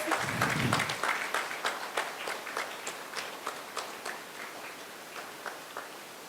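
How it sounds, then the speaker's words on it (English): Applause rises at a journalism awards ceremony in Kenya, starting with a brief burst of crowd noise and then thinning to scattered, fading claps from a modest audience. "A round of applause."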